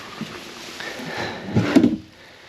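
A slow-close drawer in the kitchen of a 2024 Forest River East to West Entrada 2200S Class C motorhome glides shut with a soft, muted slide and a gentle thump near the end, close by.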